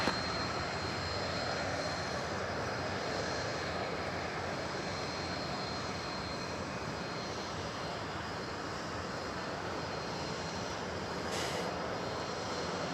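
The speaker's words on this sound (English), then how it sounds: "There's an Embraer 175 getting tugged over to the terminals" Embraer 175 airliner being towed to the terminals at an airport, heard as a steady, broad jet-engine roar that holds evenly at moderate distance without pause.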